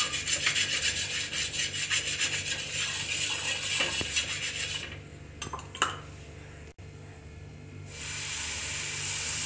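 Oil being rubbed across a hot dosa griddle (tawa) on the stove: steady, close scraping and rubbing for about five seconds, then quieter, with a few sharp clicks and a soft hiss toward the end.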